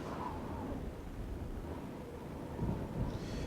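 Thunderstorm in the Oblivion video game, a low rolling rumble of thunder with steady rain hiss, swelling slightly louder near the end, no voices.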